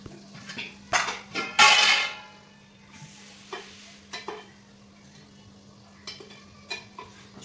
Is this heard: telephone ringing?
no